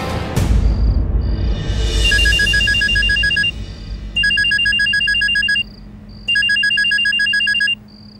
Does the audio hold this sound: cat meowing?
no